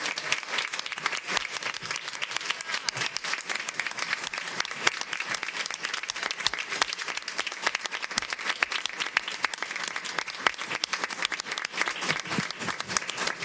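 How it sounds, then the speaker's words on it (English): Sustained audience applause fills a school board of education meeting, dense steady clapping from many hands continuing evenly throughout with no speech over it. "Let's give them one more round of applause."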